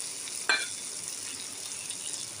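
Shrimp hit hot, spiced oil in a pan while cooking a green jackfruit and shrimp curry, giving one sharp burst of sizzle followed by a steady, close crackling fry.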